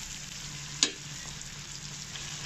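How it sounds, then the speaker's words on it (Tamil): Chopped onion, tomato and green chili sizzle steadily while being sautéed in a pan, with one sharp utensil clink early on and a constant soft frying hiss throughout. "அப்படியே கொஞ்சம் வதக்கிக்கோங்க."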